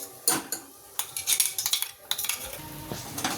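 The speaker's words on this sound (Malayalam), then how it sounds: "ഇനി നമുക്കത് ഇതിൻ്റെ അകത്തോട്ട് ചേർക്കാം കേട്ടോ ചേർത്തിട്ട് നന്നായിട്ട് വഴറ്റും" Metal utensil scraping and clinking against a pan as crushed kanthari chili is stirred and sautéed, a run of close, irregular clattering strokes with brief pauses, no talk.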